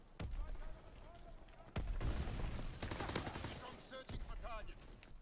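MP40 submachine gun firing in a shooter video game, repeated loud bursts of rapid automatic fire mixed with explosions, with a player talking over the action.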